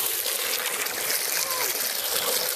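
Water trickles and splashes steadily into a bucket close by, a continuous bright wash of liquid with no pauses.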